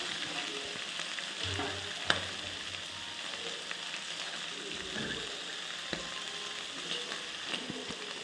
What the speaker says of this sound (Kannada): ಚೆನ್ನಾಗಿ ಇದರಲ್ಲಿ ಫ್ರೈ ಮಾಡ್ಕೊತಾ ಇದ್ದೀನಿ